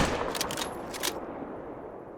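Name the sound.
bow shot at a lion in video game Call of the Wild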